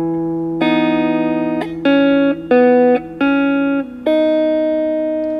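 Electric guitar playing a song intro in a hammer-on variation: a sustained low note under a handful of clean, ringing melodic notes with slight distortion and reverb, played alone with no talking.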